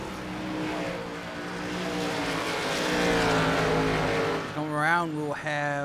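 NASCAR Gen 4 race cars in iRacing at New Hampshire, a sustained roaring engine drone rising in pitch, then warbling sweeps as cars pass near the end, with commentary spoken over it.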